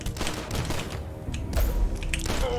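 Rapid, loud gunfire from the first-person shooter DUSK, a continuous rattling barrage with heavy thumps, no voice over it.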